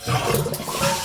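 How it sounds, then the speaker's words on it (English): A toilet flushes after a fill valve repair, a loud close rushing gurgle of water swirling and draining steadily. "1 flush."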